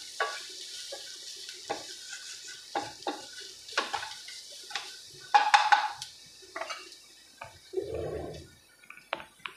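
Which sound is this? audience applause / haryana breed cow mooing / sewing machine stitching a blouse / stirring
stirring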